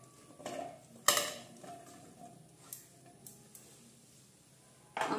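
Chopped cucumber pieces are dropped into a mixer grinder jar in a home kitchen for juice. Several sharp clinks and knocks sound against the jar at irregular moments, with quiet stretches between them and one louder rattle at the end.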